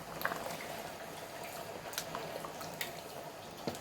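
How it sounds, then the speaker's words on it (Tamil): Water boiling in a pot for mutton biryani, a soft continuous bubbling hiss with occasional sharper pops and splashes, faint and close, with no talking. "தண்ணி நல்லா கொதித்து வந்துட்டு"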